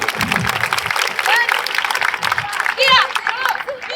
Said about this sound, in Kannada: ಜೋರಾಗಿ ಚಪ್ಪಾಳೆ ತಟ್ಟಿಸ್ತಾ ಇರ್ಬೇಕಾದ್ರೆ